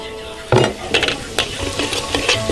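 Chilli powder frying in a shallow layer of leftover oil in a wok: a sharp clatter and burst of sizzle, then repeated scraping stirs and crackles.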